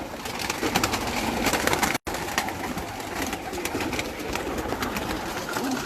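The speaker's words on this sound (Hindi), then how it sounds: "इनके पास टैडी और मगर कबूतर हैं माशाल्लाह।" Magar pigeons in a loft at a farm house in Islamabad give a steady low cooing, blending with other pigeon calls and flutters, close and continuous with a brief break.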